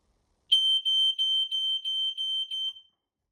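A high, piercing electronic alarm from an Ei166RC smoke alarm's test button beeps in a rapid pulsing pattern for about two seconds, loud and close, then stops abruptly.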